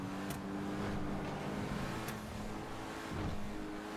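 An Infernus Classic sports car in GTA 5 Online revs hard and loud with a continuous engine roar, broken by two sharp metallic exhaust pops.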